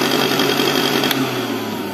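A small Philips blender motor whirs steadily up close with a buzzing, rattling vibration running through its hum, from loose parts inside.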